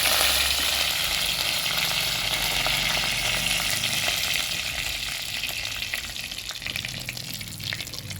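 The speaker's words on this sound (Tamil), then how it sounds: "லைட்டாக கொஞ்சமாக ஜீரகம் போட்டுக்கோங்க." Cumin seeds and curry leaves fry in hot oil for a Tamil greens dish, a loud, dense close-up sizzle with crackling spatter that stays strong and slowly eases, no voices over it.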